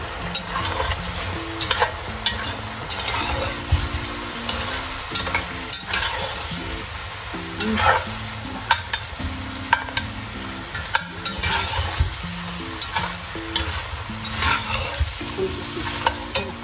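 Eggs are stirred into a sizzling pan of rabbit with Sichuan pepper, a steady fry hiss punctuated by frequent sharp utensil clicks and scrapes against the pan, close and without talk.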